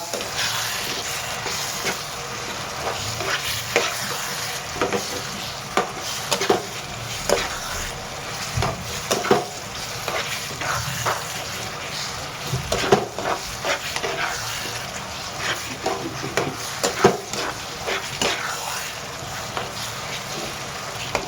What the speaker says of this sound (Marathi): आता आपण अंडे व्यवस्थित हलवून घेऊया